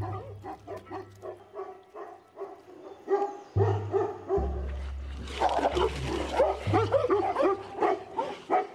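Dogs bark repeatedly and yip in an excited, overlapping volley at a Tibetan blue bear, with deep low rumbles and growling underneath, fairly close and loud throughout.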